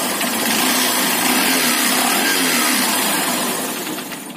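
Honda Shine motorcycle engine with a low-rpm fault, running steadily at idle and loud and close, then starting to fade toward the end as it begins to stall.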